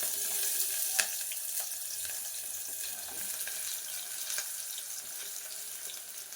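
Onions and green chillies fry in hot oil, giving a faint, steady crackling sizzle with scattered sharp pops throughout.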